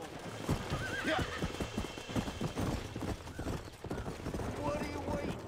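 A horse in Red Dead Redemption clip-clops in quick uneven hoofbeats and lets out a whinny, close and fairly quiet, with bursts of game chatter over it.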